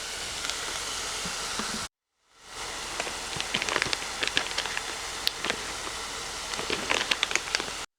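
Chopped garlic cloves sizzling in a butter and wine sauce, a steady close crackling hiss that briefly cuts out, then returns with sharper pops and spatters.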